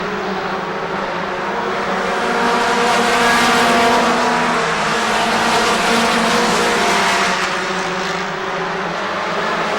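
A pack of oval-track race cars roars past at Rockford Speedway in a 1994 race, a dense loud engine drone that swells and fades slightly as the field circles, with no voices.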